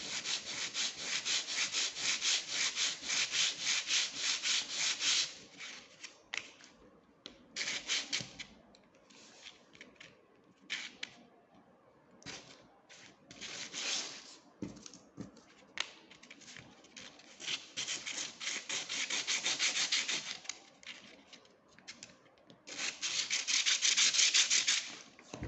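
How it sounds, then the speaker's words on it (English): Wooden popsicle sticks are sanded by hand in bursts of close, scratchy rubbing strokes, with short pauses between strong passes. "so I'm gonna have to sand them really good."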